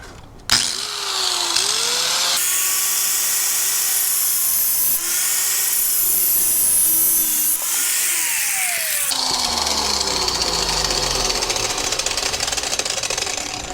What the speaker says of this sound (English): I'm going to use my grinder here